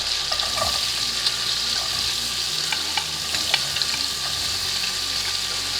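Onions sizzle and crackle steadily in hot rendered pork fat in a pan, with occasional stirring scrapes and pops, close up.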